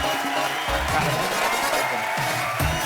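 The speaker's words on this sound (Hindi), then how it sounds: "एक बार जोरदार तालियों से स्वागत करिए" A studio audience at a TV comedy show applauding and cheering steadily throughout, with scattered shouts rising over continuous clapping.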